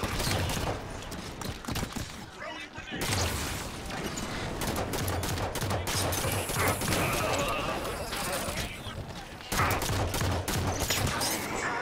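Continuous gunfire from Halo 5: Guardians during a Legendary-difficulty mission: rapid, dense volleys of shots and bursts run almost nonstop, loud and close, with game voices faintly beneath.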